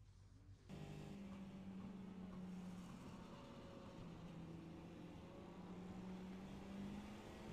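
Street stock race car engines drone in a figure-8 race in the iRacing sim game at Slinger Speedway, a steady roar with shifting pitch as cars run close together, with no talking over them.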